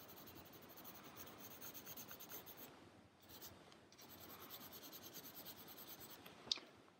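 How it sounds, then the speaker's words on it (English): A pencil shades a tree drawing on paper, giving a continuous, quiet, close scratchy rubbing made of rapid back-and-forth strokes with one brief pause and a small tap near the end. "Going to put a little shading here in between these two roots."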